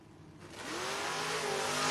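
An 81 Mustang and a Camaro launch down a drag strip, engines rising fast from a low rumble into a loud roaring rev as the cars pull away, with no talk over it.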